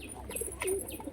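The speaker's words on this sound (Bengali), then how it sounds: "খুবই লক্ষ্মী পায়, অনেক দিনের পুরনো পায়রা এটা" An old, tame pet pigeon coos softly once or twice at close range, a brief low murmur over faint background noise.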